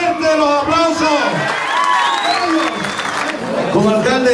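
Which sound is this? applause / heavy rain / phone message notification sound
applause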